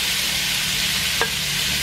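Pork sizzles with translucent onion in a hot pan for lasagna, a loud, steady frying hiss broken by a single brief tap of a utensil.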